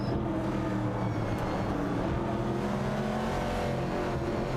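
Race car engines, including a Pontiac Firebird 70 and a Dodge Dart, drone in a steady, dense roar throughout an AI racing video game, with several motors overlapping continuously and no talk.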